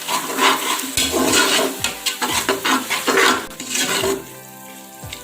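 Yogurt cooks with masala in a pressure cooker pan while a spoon stirs, giving a close sizzle and bubbling with repeated scraping and clanking strokes against the metal.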